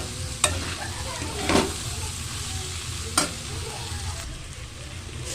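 Paneer and vegetables stirred in a hot pan for a child's meal, a steady close sizzle with a few sharp spatula scrapes and clacks against the pan throughout.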